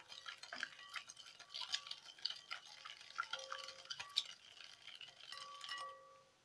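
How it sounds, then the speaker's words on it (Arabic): A whisk scrapes and taps rapidly against a bowl of cake batter and sugar in a steady stirring rhythm, close and fairly quiet, with no voices. "هضرب كويس جدا لحد ما السكر يدوب."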